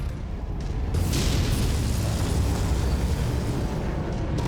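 A destroyed mech blows up in the MechWarrior video game, a heavy, rumbling explosion that swells and holds loud for several seconds with a deep low boom and crackling debris.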